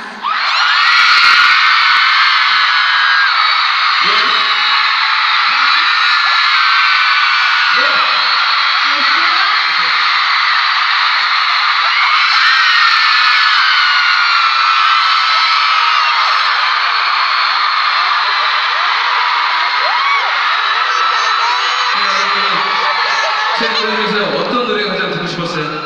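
A huge concert crowd in Mexico screams and cheers nonstop at a show, a loud, dense roar that barely dips, with a few shouted voices rising through it.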